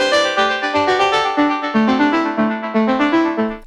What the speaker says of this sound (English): The Usynth uses an incredible piece of technology that makes it sound like this